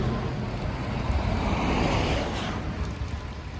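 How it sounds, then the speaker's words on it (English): Trucks pass by on a road near an outdoor roadside spot, a loud, continuous broadband roar that swells as a vehicle goes by and then eases off, with no talking. "some trucks passing by."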